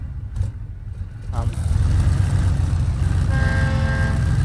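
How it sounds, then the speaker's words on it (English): Truck engine starting up in the off-road driving video game SnowRunner on Xbox: a faint cranking at first, then the engine catches and settles into a loud, steady low rumble. "It takes a little bit for the truck to start up."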